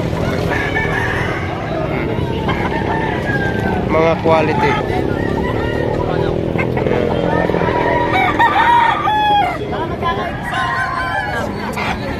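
Roosters crow repeatedly over a busy crowd at a gamefowl market in Padre Garcia, with people talking nearby and other fowl clucking in the background.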